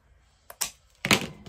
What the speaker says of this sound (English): Look how those scissors just slice through it like nothing.